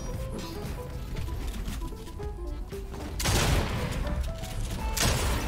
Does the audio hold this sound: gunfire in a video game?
yes